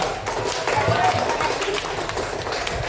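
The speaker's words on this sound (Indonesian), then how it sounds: "Tepuk tangan dulu untuk Eca." Classroom applause for a student who answered correctly, a burst of children's clapping with scattered taps and thumps, mixed with voices and noisy room sound throughout.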